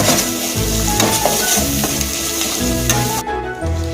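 Chopped onions and green chillies sizzle loudly in a hot pan for a fish curry, with steady frying hiss and repeated scraping strokes of a spoon stirring them through the oil.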